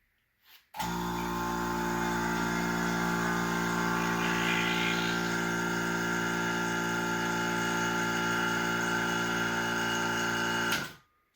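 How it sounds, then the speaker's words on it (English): Vacuum pump for a ping pong ball cannon switching on abruptly, then droning loudly and steadily with a tonal hum for about ten seconds before cutting off, with no talking. "Go ahead and open up the pump."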